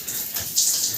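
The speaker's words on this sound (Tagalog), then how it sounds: "Ligo lang, shower lang." Shower water runs in a steady, loud hiss that is close and continuous, with the spray surging a little stronger partway through.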